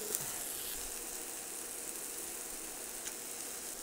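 Garlic hits mushrooms already cooking in a hot pan, giving a steady, even sizzling hiss at moderate volume with no voices over it.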